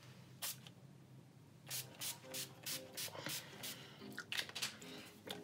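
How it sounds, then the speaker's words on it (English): NYX matte finish setting spray misted onto a face in short bursts, several quick hissing sprays in a row, close and fairly loud in a quiet room. "So I'm gonna spray my face with NYX matte finish."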